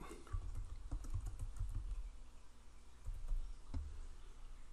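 Rapid keystrokes on a computer keyboard while a new report name is typed, a steady run of close, soft clicks with brief pauses and no talking.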